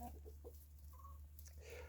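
Breeding flock of Easter Egger chickens with roosters on a farm, soft scattered clucks and short calls, faint over steady low background hum.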